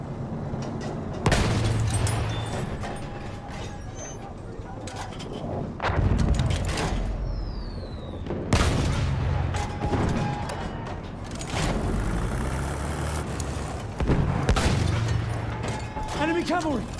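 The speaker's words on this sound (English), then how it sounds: "machine gun." Machine gun fire in a war game, repeated loud bursts mixed with heavy booms and battle noise, with voices talking over the combat.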